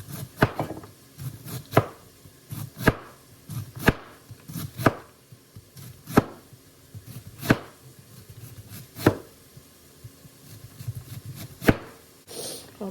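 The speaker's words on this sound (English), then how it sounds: "I stand it up and cut it" A knife chops through a stood-up piece of shredded cabbage on a board. Sharp, single thuds land about once a second, loud and close, with quiet gaps between them and no talking.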